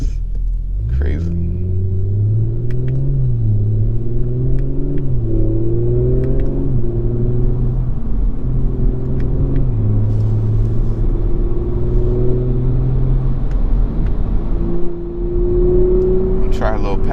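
A 2021 Audi S4 Premium Plus engine drones low and steady while driving, with gear-shift steps in its pitch and faint exhaust pops near the start and end.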